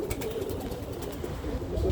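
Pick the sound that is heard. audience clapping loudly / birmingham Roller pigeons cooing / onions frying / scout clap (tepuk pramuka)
birmingham Roller pigeons cooing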